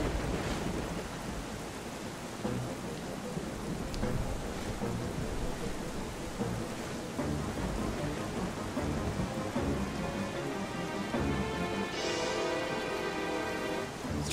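Rain falls steadily with rolling thunder in Zelda: Twilight Princess, a continuous wash of downpour with low rumbling swells and a brighter burst near the end, with no talking.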